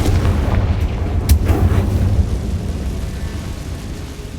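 A Confringo blasting spell detonates in Hogwarts Legacy, a single loud booming explosion with a sharp crack that rolls into a low rumbling decay.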